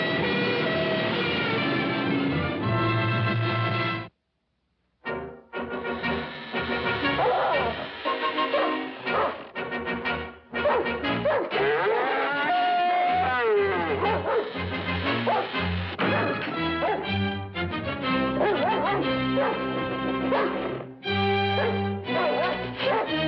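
A dog barks, yips and whimpers in an animated cartoon, in repeated bursts over music and other effects, with a brief silent gap near the start and voices speaking at times.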